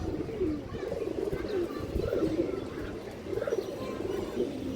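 Cooing from pigeons kept in a club loft, including a banded hen, with repeated low rolling coos overlapping one another close by and steady, no talk over them.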